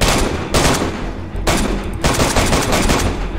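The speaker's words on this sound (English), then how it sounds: "He's shooting at us." Gunfire in the survival video game DayZ, loud close bursts of rapid automatic shots with short breaks between them, no voices over the shooting.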